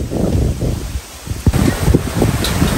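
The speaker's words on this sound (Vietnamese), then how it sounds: "chỗ này gió dữ quá vậy" Strong wind at a Buddhist temple, rumbling gusts buffeting the microphone in a loud low roar, with a brief lull midway.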